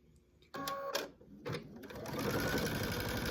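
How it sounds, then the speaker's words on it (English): A sewing machine stitches quilt binding from the corner, starting with a few short bursts and then settling into a steady, close, continuous whir. "We're going to stitch it directly from the corner."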